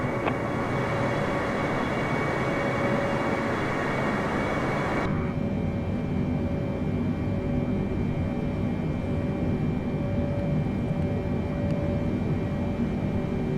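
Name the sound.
Boeing 747 engines in Microsoft Flight Simulator video game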